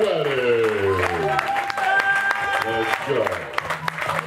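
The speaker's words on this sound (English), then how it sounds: "keep the hands clapping, y'all" An audience at a poetry slam keeps clapping steadily, with scattered sharp claps under a host's loud voice.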